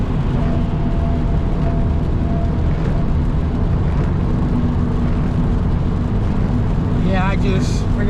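Lexus IS250 on the move, its engine note a steady loud low drone under constant road and wind rumble, with a brief chirping sound near the end.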